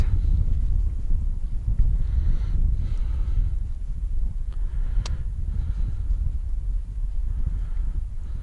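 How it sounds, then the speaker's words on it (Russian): Strong wind sweeps across open ice, a steady, close roar of gusts buffeting the microphone with low rumbling throughout and no break. "Блин, ветер, ребята, жесть."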